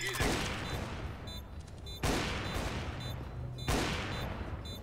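Gunfire in a CS:GO match comes as three loud, sharp bursts about two seconds apart, each trailing off into rattling echoes over a steady background din.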